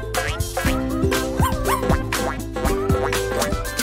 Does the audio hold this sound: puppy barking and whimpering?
yes